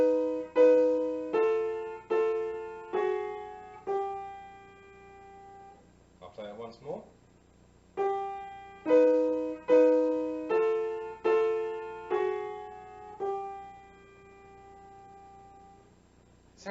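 A piano, or a similar plucked-decay keyboard, plays the melody of John Tavener's The Lamb in two lines moving in contrary motion, with clear separate notes that decay. The phrase is played twice, and someone speaks briefly between the two playings.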